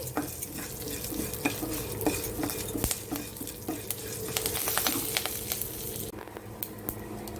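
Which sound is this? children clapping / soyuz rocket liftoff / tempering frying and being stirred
tempering frying and being stirred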